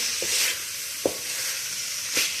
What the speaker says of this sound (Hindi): अब हम इसमें कटी हुई बंद गोभी और शिमला मिर्च ऐड करेंगे और इसको 2-3 मिनट के लिए फ्राई कर लेंगे।